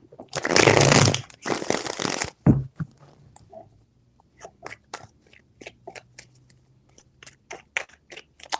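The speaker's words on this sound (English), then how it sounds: "Three shuffles." Tarot cards being shuffled close up: two long dense riffling bursts, then a run of short, crisp card snaps and taps at an uneven rhythm.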